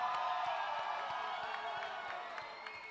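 Crowd at a battle-of-the-bands final cheering for the winning band, a sustained roar of voices and whoops with scattered claps, steady then slowly fading.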